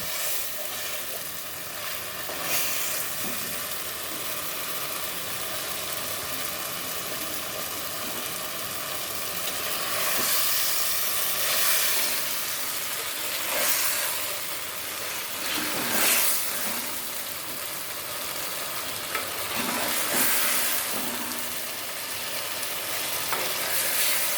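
Fish with garlic sautés in an earthen clay pot, a continuous close sizzle broken by several louder bursts of stirring and scraping, with no voices.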